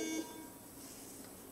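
A police breathalyzer emits a brief beeping tone during a roadside DWI breath test, heard close up over a steady background hum.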